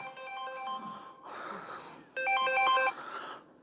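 A mobile phone ringtone rings out in a classroom as a repeating melodic tone pattern, moderately loud, with soft room noise around it.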